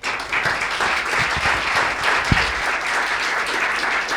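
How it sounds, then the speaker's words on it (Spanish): Steady applause from an audience at a talk about Venezuela's Bolivarian model, welcoming two speakers, even and continuous with a few sharper claps standing out. "un aplauso, por favor"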